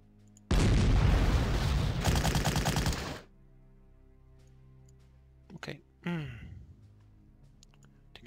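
Artillery fire in the World War II strategy game Panzer Corps erupts as a single loud, deep blast rumbling for nearly three seconds, followed by quiet interface clicks and a couple of short sharp game sounds.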